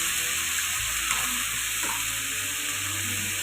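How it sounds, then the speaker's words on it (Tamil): Sliced tomatoes sauté in hot oil in a pan for a tomato mint chutney, giving a steady close sizzle with soft stirring scrapes throughout and no voices. "ஆறு தக்காளி நல்லா நீட்டு நீட்டு வாக்கில் போட்டுருக்கீங்க போட்டு இந்த மாதிரி வதக்கிக்கோங்க"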